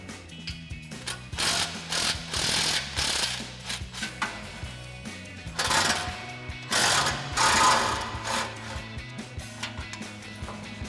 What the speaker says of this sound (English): 13 millimeter swivel socket and extension on our impact. We're going to fish that up in there, unbolt those 2 nuts